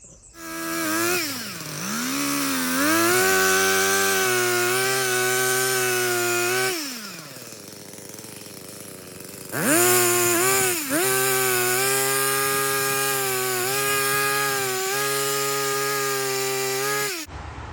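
A chainsaw cuts up firewood outdoors, close and loud, its engine revving high as the chain bites, dropping to a lower idle for a few seconds, then roaring back up for another long cut.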